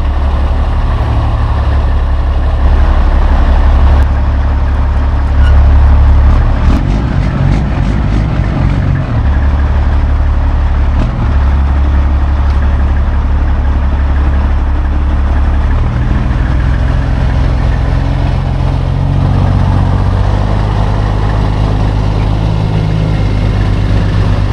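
A Peterbilt 379 truck with a CAT 6NZ engine and 7-inch straight pipes driving, a loud, deep, continuous rumble that rises and falls with throttle changes and gear shifts, recorded close to the rig over a long stretch.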